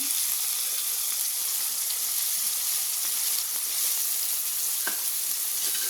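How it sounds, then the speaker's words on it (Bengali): Chopped onion sizzling in hot oil in a karai, a loud, dense, continuous frying hiss close up, with a few faint clicks and no voices. "তেলটি গরম হলে দিয়ে দেব পেঁয়াজ কুচি"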